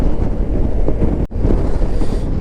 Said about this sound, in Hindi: इतनी तेज़ हवा आ रही है कभी कभी